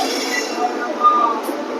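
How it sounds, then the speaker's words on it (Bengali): The Gitanjali Express stands at Igatpuri station during a short halt, giving off a steady, even rumble. A few faint metallic clinks sound near the end. "এবার ছাড়ছে ট্রেন, উঠে পড়লাম ট্রেনে"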